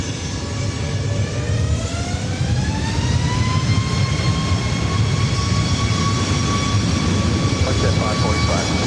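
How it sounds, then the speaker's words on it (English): A Delta Connection SkyWest jet arrives at LAX from Aspen, its engines roaring loudly and steadily with a rising whine throughout, close by and alone. "Next arrival is Delta Connection SkyWest flight 4133 coming in from Aspen."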